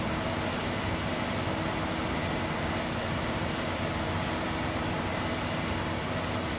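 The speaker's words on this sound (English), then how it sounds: "Gosh, this is one loud combine." Farming Simulator 25 combine harvester running loudly, a constant droning mechanical roar with a whiny, vacuum-like hum, steady and unbroken throughout.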